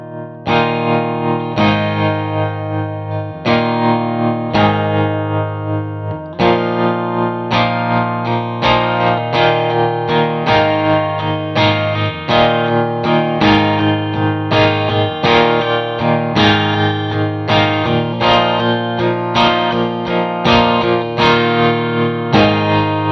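A guitar played through a Wampler Latitude Tremolo Deluxe pedal on its triplet tremolo setting: sustained chords pulse in a steady, rapid rhythm of volume swells, loud and close, with no voices.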